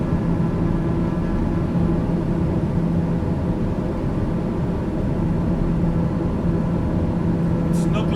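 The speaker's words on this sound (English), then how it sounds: "these planes, they are pretty loud" A steady, loud airplane engine drone plays inside Microsoft Flight Simulator 2020, an even mechanical hum with constant low tones that holds without change for several seconds, with a brief higher sound near the end.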